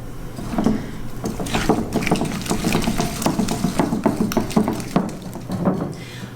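Eggs being beaten one at a time into cake batter for a cinnamon marble cake, heard as a fast, steady stream of close, repetitive tapping and sloshing strokes with no voices.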